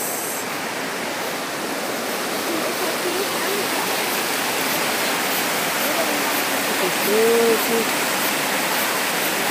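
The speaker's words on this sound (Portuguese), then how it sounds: "Ó, o barulho das cachoeiras, dos pássaros." Waterfalls roar with a steady, full hiss of rushing water close by outdoors, unbroken and constant, while a person briefly speaks over it.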